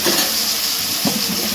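Tomatoes frying in a pan, a steady, loud, hissing sizzle close up, with no talking.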